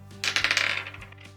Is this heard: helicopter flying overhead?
no